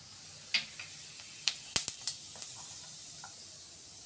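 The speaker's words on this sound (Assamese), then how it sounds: "জিৰা ফুটিছে" A pinch of cumin seeds crackles in hot oil in a kadai, scattered sharp pops over a quiet, faint hiss, several close together near the middle, without any talking.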